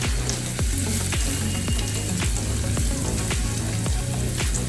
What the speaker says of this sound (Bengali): আমি পেঁয়াজগুলো একসঙ্গে দিলাম কারণ ভাজাটা তাহলে সুন্দর হয়